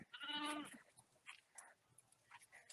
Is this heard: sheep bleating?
yes